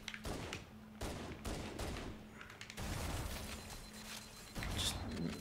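Shotgun blasts from Halo: Combat Evolved, several heavy booming shots at irregular intervals, each with a sharp onset and a short rumbling tail, amid steady in-game background noise.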